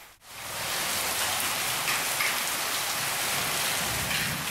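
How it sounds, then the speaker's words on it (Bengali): Heavy rain pours down in Hooghly as a storm approaches Kolkata, making a dense, loud, unbroken roar that rises within the first second and holds steady. "মুষলধারায় বৃষ্টি শুরু হয়েছে হুগলিতে।"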